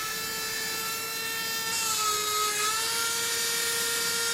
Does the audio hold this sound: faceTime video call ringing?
no